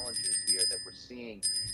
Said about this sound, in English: There's our notification bell for the sell signal coming and sticking